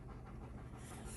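A dog pants steadily after coming in from outside, soft rapid breathing close by and fairly quiet, with no talk over it.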